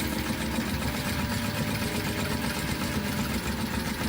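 A hand-cranked sewing machine turns steadily, giving a continuous low mechanical whir and rumble with no clear pauses across the whole stretch.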